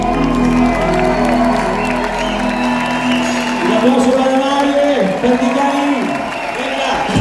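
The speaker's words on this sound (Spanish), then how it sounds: "Un aplauso para Mari Perticari." A theatre crowd at a concert at Teatro Vorterix claps and cheers loudly and continuously over sustained music, with shouts rising through the roar.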